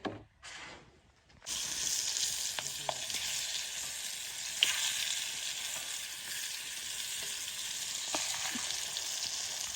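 Oil sizzles in a hot kadai: a brief knock and short lull give way to a steady, close sizzle, with a few faint clicks scattered through it.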